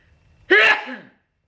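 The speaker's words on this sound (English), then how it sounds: "I'm getting ready to start sneezing." One sharp sneeze bursts out close to the microphone, a quick explosive hit trailing into a short voiced tail, followed by quiet.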